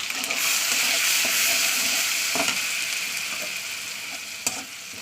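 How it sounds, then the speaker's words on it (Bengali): Ground spice paste from a mixer grinder hits hot oil in a pan, giving a loud, steady hiss that tapers slightly as it settles, with a few faint stirring clinks and no talking. "তেলটা গরম হয়ে গেলে আমি দিয়ে দেবো যে মিক্সচার মেশিনে যে মশলাটা করেছে সেই মশলাটাকে দিয়ে দিচ্ছে"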